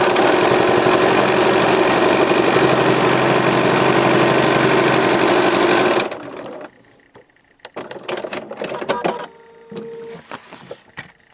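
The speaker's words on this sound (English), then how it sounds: "here we are sewing the next seam" A sewing machine stitching a fabric seam runs in one loud continuous whir for about six seconds, then stops, followed by quieter clicks and fabric handling close by.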